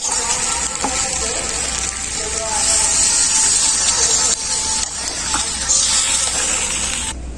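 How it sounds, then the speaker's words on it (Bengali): Mixed vegetable curry bubbling in a pot as it simmers on the stove, a steady close hiss and gush of boiling liquid with faint rattling throughout, no voices. "ঝোলে খুব ভালোভাবে জাল উঠে গেছে"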